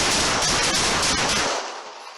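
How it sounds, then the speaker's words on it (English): Police officers fire a rapid, loud volley of gunshots at close range, the burst lasting about a second and a half before trailing off, with no talk. "shots fired, officer involved"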